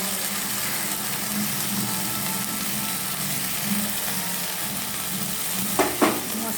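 Mashed boiled potato filling with spices for aloo paratha fries in a pan, giving a low, constant sizzle, with a couple of sharp spoon scrapes near the end.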